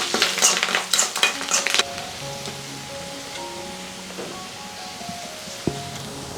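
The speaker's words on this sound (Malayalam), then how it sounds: "ഇപ്പോൾ കടുക് വറുത്തിട്ട് ഇഞ്ചിയും വെളുത്തുള്ളി ചുവന്നുള്ളി ഒക്കെ ഒന്ന് വഴറ്റിയെടുക്കുക കേട്ടോ." Ginger, garlic and shallots are sautéed in a pan of fried mustard seeds, with close bursts of sizzling and stirring at first that settle into a quieter, steady low sizzle.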